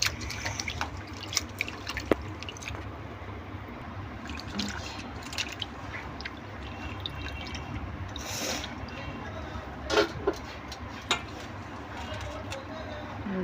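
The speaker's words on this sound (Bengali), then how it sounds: "আমার মাছ ধোয়া হয়ে গেছে" Fish rinsed under running water from a tap while preparing a shrimp curry: a soft steady trickle and splash with scattered drips and small squishy handling sounds, fairly quiet and close, with a few louder splashes.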